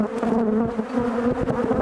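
Honeybees buzzing steadily inside an open hive during a spring inspection at Mosborogh, a dense continuous drone close to the frames with no talk.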